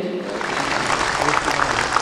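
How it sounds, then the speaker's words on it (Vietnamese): Audience applause at a Vietnamese community gala, a steady wash of clapping filling the room, with a voice speaking over it. "Một lần nữa xin cảm ơn những tràng pháo tay của quý vị đã dành cho các bảo trợ viên lớn của chúng tôi."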